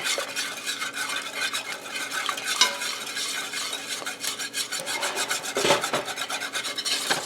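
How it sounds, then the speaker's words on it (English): Flour slurry poured and stirred into hot chicken juice in a pot, giving a steady close scraping, rasping stir with light clinks and a faint sizzle throughout, no talk. "we're going to pour our flour slurry in there"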